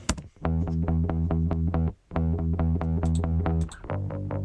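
A punchy, amp-toned bass guitar, run through an amp modeling plugin, plays repeated low notes in a steady rhythm, pausing briefly once before continuing.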